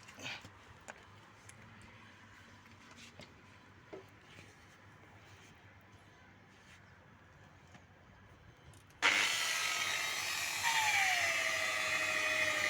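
After several seconds of quiet handling noises, a polishing machine starts up to buff a Mercedes-Benz car headlight, a sudden loud, steady whine that holds to the end.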